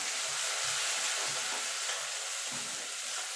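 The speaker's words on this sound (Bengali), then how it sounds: "আদা রসুনটা দিয়ে ভালো করে আরও মিনিট খানেক একটু নাড়াচাড়া করে নেব" A paste of ginger, garlic and green chili fries with browned onions in a pan for a jackfruit and prawn curry, giving a dense, even, close sizzling hiss throughout.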